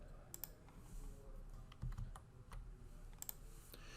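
Quick bursts of typing on a computer keyboard as a command is entered, crisp close key clicks in a short uneven run, faint against a quiet room.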